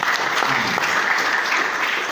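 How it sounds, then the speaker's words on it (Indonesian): Audience applause at a Muhammadiyah youth gathering in Sumedang, a dense, even roar of many hands clapping that holds steady and close for the whole stretch. "Tepuk tangan untuk Sumedang."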